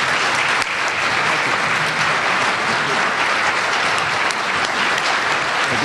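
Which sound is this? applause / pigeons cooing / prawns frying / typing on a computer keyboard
applause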